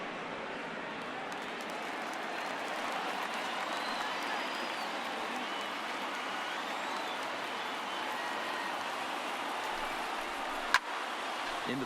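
Stadium crowd noise from a baseball game in MLB The Show 19, a steady, moderately loud wash of cheering and murmur that holds for the whole stretch with no talk over it.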